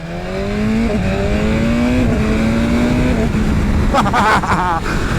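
A motorcycle engine revs steadily nearby, pitch climbing gradually, then a few sharp higher bursts near the end.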